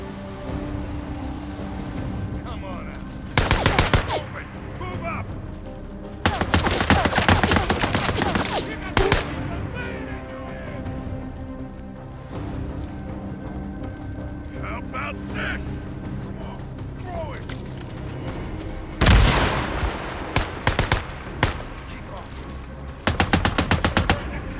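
Sniper gunfire in the video game Days Gone, heard as several loud bursts of cracking shots spread across the scene over a constant rumbling, rain-like game background.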